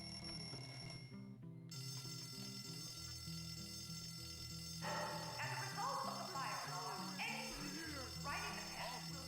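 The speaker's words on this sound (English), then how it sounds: "That's the fire alarm, apparently." A fire alarm beeps in a repeating electronic pattern while video game music and sound effects play, the tones mixing with busy game audio throughout.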